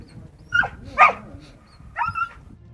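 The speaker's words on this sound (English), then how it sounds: "This dog couldn't get out of the river and badly needed some help. It was yelping very sadly" Dog stuck in a river, yelping in three short sad cries spaced about half a second to a second apart, moderately close, with faint background noise between them.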